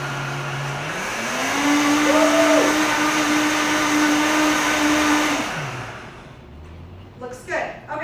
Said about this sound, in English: we're going to mix this part first before we add the dry stuff. So, time for blender dance